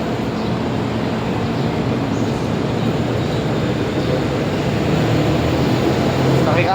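A ride-on train called Bob the Train in Thailand rumbles steadily throughout, a continuous low rolling drone at moderate level with faint voices mixed in.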